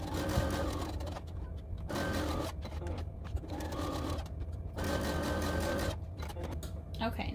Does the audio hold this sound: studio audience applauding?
no